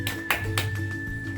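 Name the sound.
class clapping for a student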